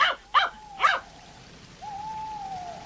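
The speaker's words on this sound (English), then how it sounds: "Almost immediately, Timmy began to bark." A dog barks three times in quick, sharp bursts, close and clear, followed by a thin drawn-out whine, set as a sound effect within an audiobook reading.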